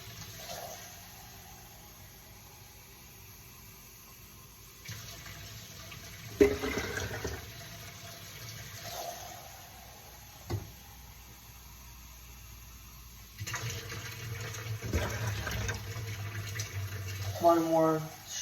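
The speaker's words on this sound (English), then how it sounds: "we're gonna put some water in here" Water runs from a tap into a plastic solo cup in a few separate bursts, splashing and filling, with quieter pauses in between, under a faint background hum.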